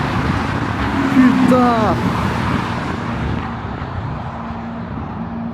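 Road traffic with a McLaren and a Ferrari driving past after the Le Mans Classic, a steady engine rumble and one rising sweep near the start that fades, under continuous roadside noise while a man exclaims.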